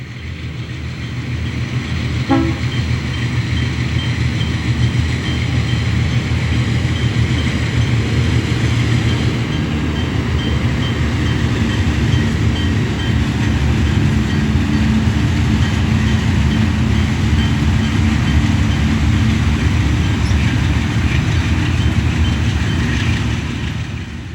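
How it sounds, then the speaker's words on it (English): A Chicago & North Western train arriving at Green Bay, a loud, continuous low rumble of engine and rolling railcars that holds steady and close throughout, with no voices. "the train will arrive at Green Bay in daylight"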